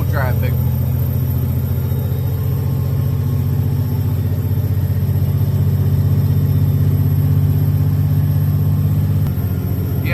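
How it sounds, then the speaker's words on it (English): A garbage truck's loud engine runs steadily at a constant drone, close and unbroken, with a brief higher squeal near the start and end. "I'm not the biggest fan of this truck. It's extremely loud."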